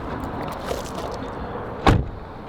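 A single car door thuds shut once, close and loud, over a steady low rumble of an idling or just-stopped car during a tour of a car collection.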